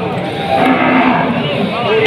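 Cattle low and moo repeatedly over a steady murmur of noise at a cattle market in Tuban, East Java, the calls fairly close and drawn out.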